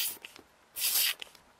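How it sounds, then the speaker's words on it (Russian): A perfume spray bottle from an Oriflame order gives a short hissing spritz, preceded and followed by faint clicks and handling taps, close and quiet with no talking. "Вот только что был сделан пшик."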